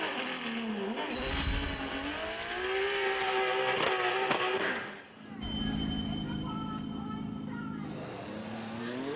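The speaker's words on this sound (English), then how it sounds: "The American Michael Esser charged into the course in his 850 brake horsepower BMW" An 850 hp BMW drift car at a drifting event, its engine revving hard and wailing through rising and falling pitch with a short dip in the middle, heard loud over crowd and course ambience.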